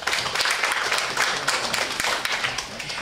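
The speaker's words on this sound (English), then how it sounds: "Let's give them a round of applause." Audience applause at an airline and tourism board signing ceremony at a travel forum, a short burst of dense, even clapping from a seated crowd filling the room.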